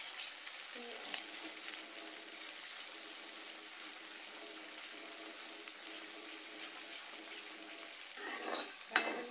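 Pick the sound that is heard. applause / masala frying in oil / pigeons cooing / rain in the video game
masala frying in oil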